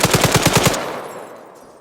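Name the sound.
gunshots in the video game ArmA 3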